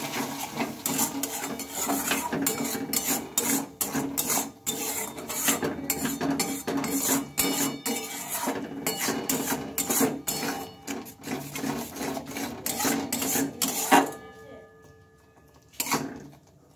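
Cabbage with salt, turmeric and a splash of water is stirred and sautéed in a pan, producing a dense, continuous clatter of a utensil scraping and tapping the metal, close and busy, stopping abruptly near the end.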